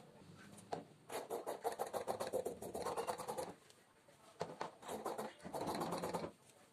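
Scissors cut through churidar fabric in two bursts of rapid, rhythmic snipping and crunching, close and fairly quiet, separated by a short pause.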